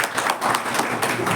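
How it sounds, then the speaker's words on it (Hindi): Brief burst of audience clapping at a CBSE resource-person session, a scattered, moderately loud patter of hands lasting just over a second with no talk over it. "ताली बजा दीजिए भाई"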